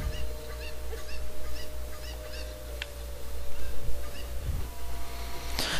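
Cucco chickens in The Legend of Zelda: Ocarina of Time clucking in a string of short, repeated calls over a steady low game hum, with a brighter burst near the end.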